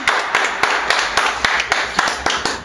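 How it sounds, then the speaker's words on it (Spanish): Studio audience on a Mexican football talk show clapping in a steady, close rhythm, with distinct sharp claps evenly spaced throughout and little talk over it. "Queremos aplausos para él"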